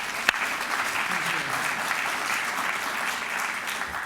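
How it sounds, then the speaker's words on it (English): A benefit reception audience for a veterans legal services program gives a steady round of applause, even and sustained, with one sharp clap near the start and a faint murmur of voices beneath. "Please, round of applause for Amy."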